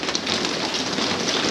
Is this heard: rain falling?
yes